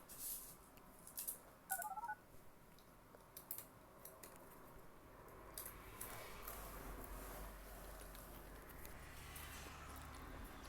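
Soft phone dialing tones sound in the Roblox Brookhaven video game as a short burst of beeps near the start, then fade into a low steady background hum with scattered faint clicks.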